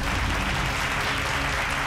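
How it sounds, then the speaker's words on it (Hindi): A crowd at a jewelry shop function gives a dense, steady round of applause for the shop's owners, loud and sustained from start to finish with no talk over it. "तालियां इनके लिए।"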